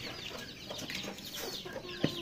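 Small chicks cheep and cluck softly in a cluster, with a few sharper peeps standing out over a steady rustling background.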